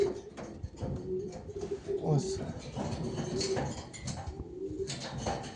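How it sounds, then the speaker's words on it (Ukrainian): Pigeons kept for sale coo in a loft, low soft calls recurring through the stretch beneath someone talking nearby. "Так що ці всі голуби до продажу."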